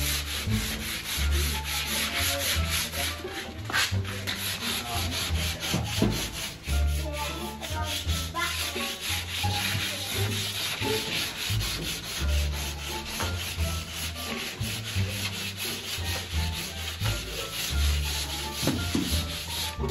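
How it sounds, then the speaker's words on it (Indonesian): Steady back-and-forth rubbing of sandpaper on a primer-painted truck frame, by hand, continuous and close, with a few brief knocks along the way. "Nah, sudah mulai mengamplasnya guys."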